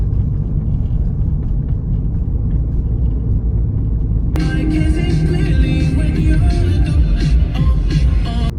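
Car driving along a road on a delivery run, a steady low engine and tire rumble from inside the cabin, with music or in-car audio joining partway through.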